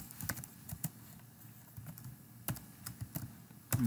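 Keystrokes on a computer keyboard while entering material data in engineering software, sparse irregular clicks and short bursts of typing, close and fairly quiet, with no speech.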